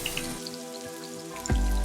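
Steady crackling sizzle of sliced onions frying in a hot pan, with scattered pops, then a louder burst of sizzling near the end.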